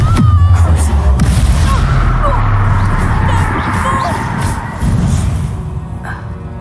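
A Confringo explosion spell blasting in combat in Hogwarts Legacy: a loud burst with a booming low rumble that fades into a dense, noisy roar of battle and magic effects, fairly close.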